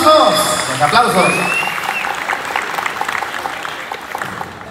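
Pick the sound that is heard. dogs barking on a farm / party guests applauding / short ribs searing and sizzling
party guests applauding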